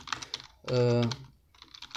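Rapid clicking of a computer keyboard while a sentence is entered in C# code, with a burst at the start, a short humming voice in the middle, and steady keystrokes resuming toward the end.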